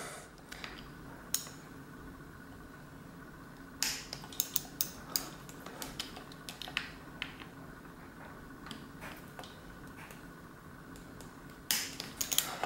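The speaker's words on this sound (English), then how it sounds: "So I have a torque wrench here. And so I'm just going to kind of turn them in, tightening them down." A torque wrench tightens disc brake rotor bolts on a mountain bike, giving quiet, scattered ratcheting clicks and ticks in short bursts over a low background hum.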